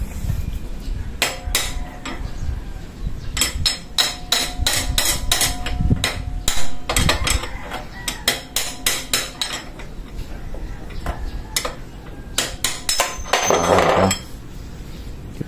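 Sharp metal hammer blows strike the steering ball race on a Yamaha Mio scooter, ringing in irregular bursts and clusters, loud and close, with brief pauses between strikes and no talking.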